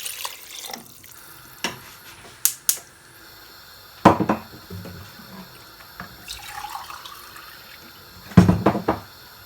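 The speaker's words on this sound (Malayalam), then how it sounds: "ഞാനിവിടെ 2 ഗ്ലാസ് വെള്ളമാണ് ഒഴിച്ചു കൊടുക്കുന്നത്." Water is poured into a pot of Kerala-style mutton curry with potatoes, giving a splashy pour broken by several sharp clinks and knocks of the vessel, with no talking.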